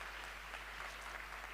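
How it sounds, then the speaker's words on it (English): An audience at an International Day of the Boy Child event applauds, heard as a faint, distant, even wash of clapping under a steady low hum. "A round of applause."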